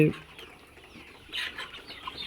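Chickens in a poultry farm shed with litter flooring, a few soft clucks and calls at moderate distance over a quiet background.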